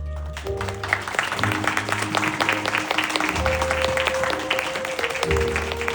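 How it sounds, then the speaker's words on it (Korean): Guests at a wedding applaud the bride and groom, a steady wash of clapping that runs throughout, with music tones and some voices underneath. "네 박수 부탁드리겠습니다"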